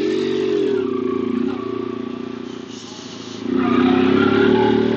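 A Yamaha XTZ 750 Super Tenere motorcycle engine runs steadily close by, its low throbbing drone dipping briefly in the middle before rising louder again toward the end.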